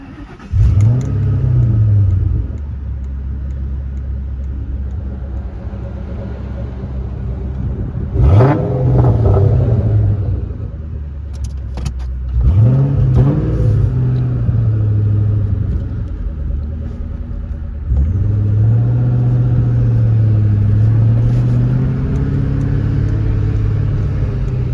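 A Ford Mustang Mach 1 engine rumbles loudly and close, swelling through several revving pulls and dropping back to a deep idle between them.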